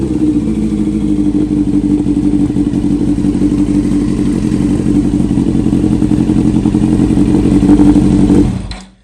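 A Yamaha R1 motorcycle with a cheap slip-on exhaust revs loudly and steadily at close range for about eight seconds, a deep rumbling drone that cuts off abruptly near the end.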